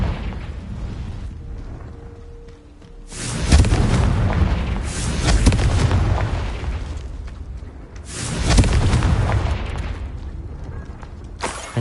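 Confringo spell blasts in Hogwarts Legacy, two heavy booming explosions several seconds apart, each a loud deep burst that rumbles and fades, over quieter game ambience.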